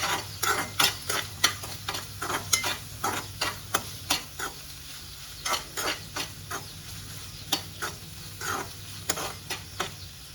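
A spatula scrapes repeatedly through ingredients sautéing in a hot pan for a spinach stir-fry, giving brisk, regular strokes about twice a second over a steady soft sizzle, close and alone.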